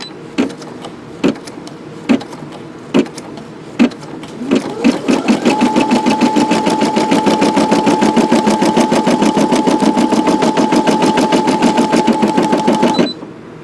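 A Brother SE625 embroidery machine stitching, with a few separate slow clacks at first that build into fast, loud, regular needle chatter over a steady motor whine, then stop abruptly.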